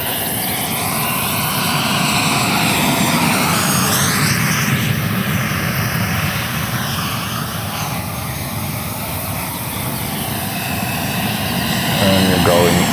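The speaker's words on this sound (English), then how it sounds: "The sound of this EDF is unbelievable." A Black Horse Viper XL RC jet with a 100mm electric ducted fan on a WeMoTec Midi EVO motor, 12s battery, whines and roars loudly and continuously, rising and falling in pitch as it passes overhead, with people talking underneath.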